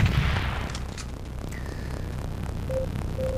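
Guns firing and explosions booming in the top-down shooter Teleglitch Die More Edition. Dull blasts and rumbling bursts are followed by a few brief synthetic tones, with no talk.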